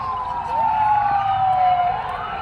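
Several fire truck and ambulance sirens wail together in a New Year parade in the Philippines, their pitches sliding and overlapping, loud and fairly close amid a busy outdoor din.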